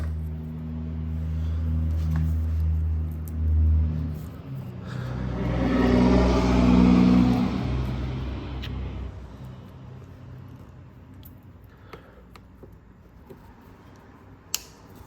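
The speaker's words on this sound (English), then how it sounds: "You'll hear a nice positive snap right there." A gas line quick disconnect snaps onto the fuel tank of a K1200LT motorcycle with a single short, sharp click near the end, after a stretch of low hum and a broad whooshing rise and fall.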